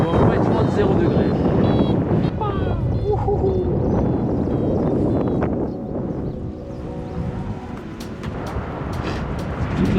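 Strong wind buffeting the microphone at a paragliding launch site above the mountains, near-freezing and used for soaring, a steady loud roar with gusty swells that eases slightly toward the end.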